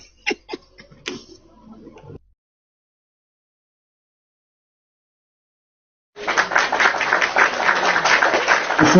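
Applause from a live audience at a pastor's broadcast, a few scattered claps and chatter first, then silence, then a burst of steady dense clapping filling the last few seconds.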